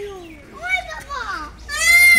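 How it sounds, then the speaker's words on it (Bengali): A peacock at a zoo gives several rising, wailing calls in quick succession, close and loud, mixed with excited children's voices nearby. "ময়ূর ডাকতেছে।"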